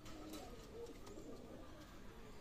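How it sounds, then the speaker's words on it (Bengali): Pakistani high-flying pigeons, a running breeding pair, coo softly and continuously in a quiet loft, the low murmuring calls faint and steady with no talking. "মাশাআল্লাহ কবুতর দেখেন ভিউয়ার্স।"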